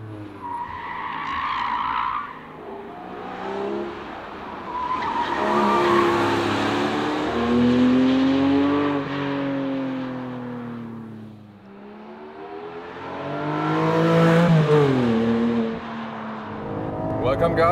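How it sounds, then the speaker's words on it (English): Porsche 718 Cayman GTS 4.0 race car at full throttle on a racetrack, its engine loud and rising through the revs in two long sweeping pulls, tires squealing through the corners. "this is a true race car, so it's also pretty loud in here"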